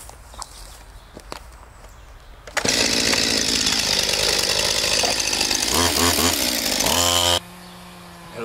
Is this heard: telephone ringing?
no